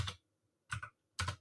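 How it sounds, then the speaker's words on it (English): Three crisp bursts of clicky computer keyboard typing, close and fairly loud, each a short cluster of keystrokes separated by brief silences. "Excuse the clicky keyboard."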